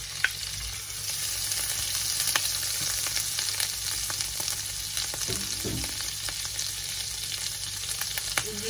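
Garlic and green herbs sauté in a pan for a seafood pasta, giving a steady close sizzle and fry with occasional stirring scrapes throughout, no talking.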